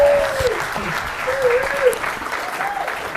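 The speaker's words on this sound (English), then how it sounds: "Everyone give a round of applause." Applause and cheering from a live audience at a football review show runs continuously under a host's raised voice.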